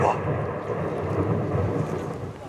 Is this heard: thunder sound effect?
yes